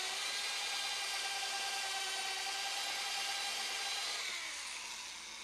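A small power drill with a bit chucked loosely cuts into stone while carving a Native American bear pipe. It gives a steady, high, grinding whine that runs unbroken and eases slightly near the end, with no talking.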